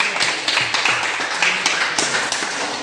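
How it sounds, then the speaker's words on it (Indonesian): Applause from a classroom of students: a dense burst of many hands clapping close by, steady and lively for a few seconds with no voices over it. "Ya, tepuk tangan Kang."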